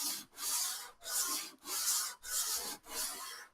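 Sandpaper rasping back and forth across the wooden fretboard of a vintage classical guitar while radiusing it, five even strokes in a steady rhythm, close and clear with no talking.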